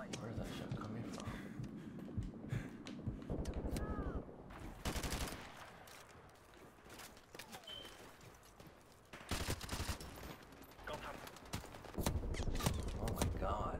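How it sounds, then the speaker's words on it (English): Bursts of rapid gunfire from Call of Duty 4: Modern Warfare Remastered come in several volleys, some loud and close and others more distant, over faint game ambience. Someone talks quietly in between. "Where is that shot coming from?"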